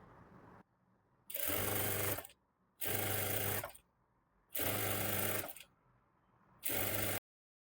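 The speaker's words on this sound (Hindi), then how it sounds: "5 इंच पे सिलाई करेंगे।" A sewing machine stitches a strip onto a wrap dress in four loud, even bursts of about a second each, separated by short quiet pauses.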